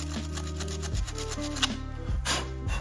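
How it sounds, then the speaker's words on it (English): Folded sandpaper rubbed back and forth over the ignition points of a 1973 VW Super Beetle left sitting outside for 15 years, giving a few close, dry scraping strokes in a quiet setting over a low steady hum. "Now we will clean the points. Sandpaper, fold it in half."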